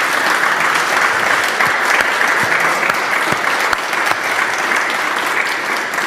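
A large crowd at a public event bursts into loud, continuous applause for the Defence Minister, dense clapping holding steady throughout with a few sharper individual claps standing out.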